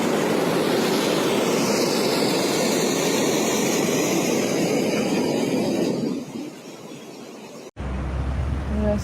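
Floodwater rushes in a Texas flash flood, a loud continuous roar that fades toward the end before a sudden cut to a lower rumble.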